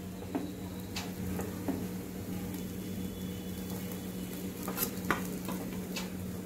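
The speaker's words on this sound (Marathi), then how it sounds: "आता आपण ती काढूया, अलगद चमचा घालायचा असा," A spoon scoops cooked egg biryani out of a pot: a few soft scrapes and light metallic clicks against the vessel over a low steady background hum, with no talking.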